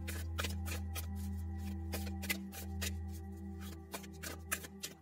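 A deck of cards is shuffled during a pick-a-card tarot reading, giving repeated crisp riffling bursts over a steady low background hum, close and fairly soft, with no talk.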